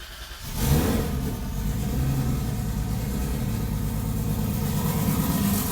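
A freshly rebuilt car engine revs up sharply, then settles into a loud, steady mid-pitched run close to the microphone, with no talking.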